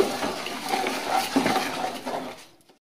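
Cardamom and cinnamon are stirred in a pot for shrimp pulao, a close sizzling rustle with light metallic clinks of the utensil against the pot that fades out near the end.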